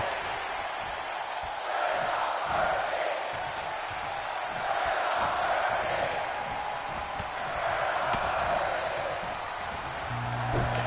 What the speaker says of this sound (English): this capacity crowd on their feet, showing some love, making some noise